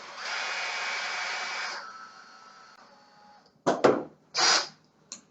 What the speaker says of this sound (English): important not to drill too far.